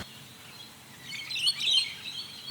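Birds chirp and tweet at an evening campsite in winter, a cluster of bright calls building in the middle and fading, fairly faint over quiet background hiss with no talking.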